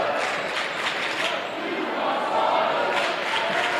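Basketball fans cheering in a high school gym during a boys game, a dense, steady roar of crowd noise with shouting swelling slightly, heard from within the stands.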